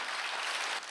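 During a Korean Sunday worship service the congregation claps, a brief, dense burst of many hands that holds steady before dropping off at the end.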